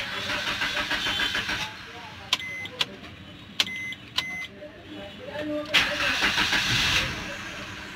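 A Maruti Suzuki Swift Dzire petrol engine, repaired for overheating, cranks with a few sharp clicks, then turns over and settles into a running rumble, while someone talks nearby.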